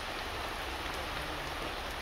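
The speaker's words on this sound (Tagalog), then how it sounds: "Basta kapagbigyan tayo ng isang malakas na ulan" Heavy rain pouring down steadily, a dense, even hiss of falling drops close by with no voices.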